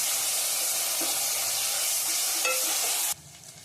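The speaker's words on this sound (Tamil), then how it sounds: "எண்ணெயிலே வதங்கட்டும். பச்சை வாசனை போகிற அளவுக்கு இஞ்சி பூண்டு வதங்கட்டும்." Ginger garlic paste frying in oil for a prawn biryani gives a steady, loud broadband sizzle with a few soft stirring scrapes, then cuts off abruptly near the end, leaving only quieter hiss.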